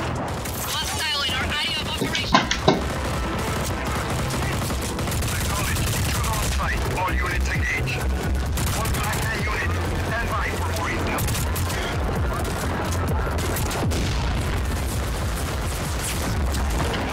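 Sustained gunfire from the video game Just Cause 4 runs throughout, a dense stream of shots and booms under talk and game noise at steady loudness.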